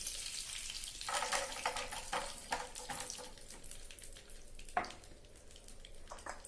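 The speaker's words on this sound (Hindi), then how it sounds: "अब डालेंगे थोड़ा घी, थोड़ा सा और डालेंगे। अब इसमें हम डालेंगे किशमिश।" Raisins frying in ghee on a low gas flame for wholewheat pinni make a soft, continuous sizzle, with light crackles and stirring clinks close by.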